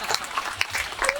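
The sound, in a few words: audience applause at poetry recital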